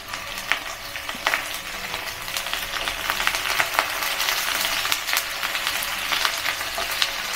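Small chicken pieces sauté in a little oil in a non-stick pan for Filipino tinola, giving a steady, close crackling sizzle with scattered sharper pops throughout.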